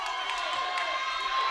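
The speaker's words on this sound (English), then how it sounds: "not great sportsmanship by the West bench here, clapping for the intentional" Crowd noise at a girls' high school basketball game, with cheering and scattered clapping from a team bench after an intentional foul, steady and moderately loud with speech mixed in.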